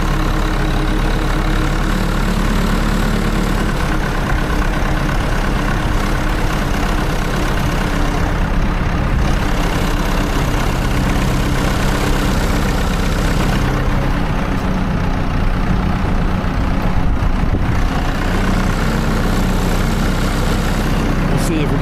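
A farm tractor's engine runs in snow with a loud, steady low drone that holds throughout at close range, with a voice faintly talking over it.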